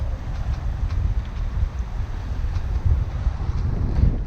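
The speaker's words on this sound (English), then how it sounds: "Now we have quite a bit of wind going through this gap, so that hits us quite hard" Strong wind funnelling through a gap buffets a sailboat underway, a loud, rumbling low roar with gusty surges and microphone buffeting throughout, no voices.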